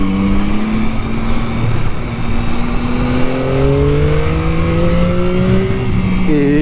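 A 2021 Yamaha MT-09 motorcycle engine revving hard during a press test ride, loud and close with rising engine tones climbing through the gears, no talk over it.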